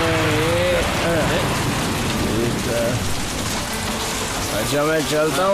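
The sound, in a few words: heavy rain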